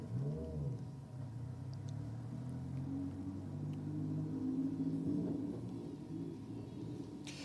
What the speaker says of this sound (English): A lot of popping and crackling.